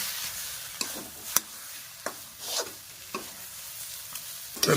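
Vegetable chop filling being stirred in a pan, with repeated scraping strokes of a spoon against the metal over a soft sizzle, several distinct strokes spaced unevenly.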